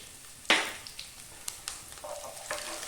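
Cumin seeds dropped into a hot pan for a coconut-based chicken curry, a sudden sharp sizzle followed by faint crackling and a few soft stirring scrapes.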